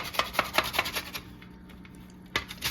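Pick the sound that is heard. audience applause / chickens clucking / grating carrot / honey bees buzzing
grating carrot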